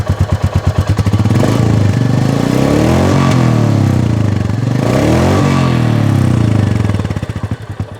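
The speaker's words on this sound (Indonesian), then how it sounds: "Coba kita gas sedikit ya." Up close, a Royal Enfield Meteor 350 motorcycle idles with a steady thump, then its engine is revved twice in smooth swells that rise and fall, dropping back toward idle near the end with no voices over it.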